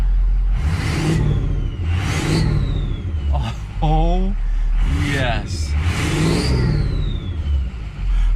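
A diesel truck engine with a KC Turbos turbocharger revs up repeatedly in bursts, a turbo whistle rising and falling with each rev, while voices talk over it.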